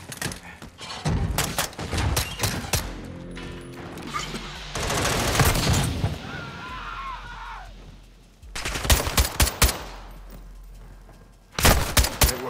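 Gunfire in the Modern Warfare II campaign erupts in loud bursts of rapid automatic shots and heavy thumps, separated by brief lulls, with game voices and ambience between volleys.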